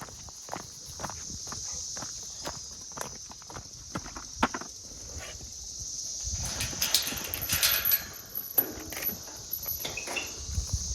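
Slow, uneven horse hoof footfalls thud on soft pasture ground on a homestead, with a steady chorus of crickets buzzing in the background.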